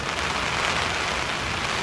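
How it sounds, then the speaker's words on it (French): Steady rain falling on a Scottish hiking trail, a dense hiss of drops pattering on a surface, constant and fairly close with no voices. "la pluie fait déjà son retour"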